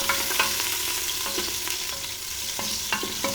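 Onion softening in a little oil for mutton karahi sizzles steadily and loudly, with repeated scrapes and taps of a stirring spoon against the pan.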